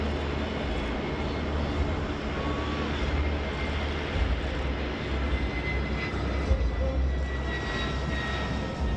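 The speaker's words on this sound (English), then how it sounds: "your United States Air Force F-16 Fighting Falcon is applying new technologies and capabilities never before deployed" A USAF F-16 Fighting Falcon jet at the Rhode Island air show produces a continuous loud, rumbling engine roar, steady and distant-sounding, with no talk heard in the clip.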